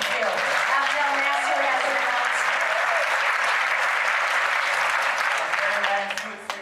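Sustained, dense applause from an audience at the close of a gubernatorial debate, steady and fairly loud throughout before easing slightly at the very end.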